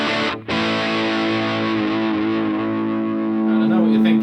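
A sustained, distorted electric guitar chord, reverb off, rings out dry and buzzing after a brief cut, held steady and loud with a slight swell near the end.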